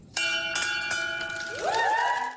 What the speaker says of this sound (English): On February 14th, Valentine's Day, Johnny rang the bell, signifying his cancer has been conquered.